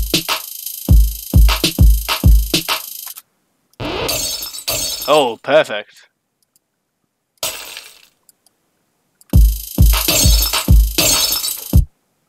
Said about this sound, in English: Glass break 2.